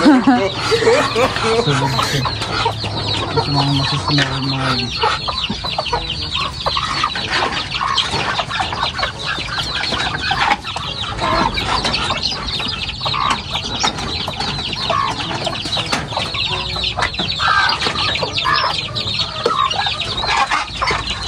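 Chickens and ducks cluck continuously in a busy farmyard, with occasional crowing and people talking nearby underneath the constant bird noise.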